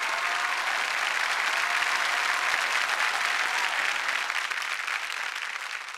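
Loud, sustained applause from a large theatre audience at a Marathi comedy show, dense clapping that fades slightly toward the end.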